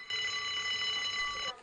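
An alarm rings in the horror game Unheard, a steady electronic tone that sounds continuously at moderate level for about a second and a half, then cuts off.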